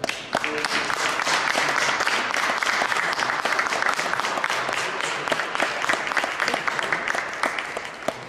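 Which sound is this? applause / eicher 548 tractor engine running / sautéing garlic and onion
applause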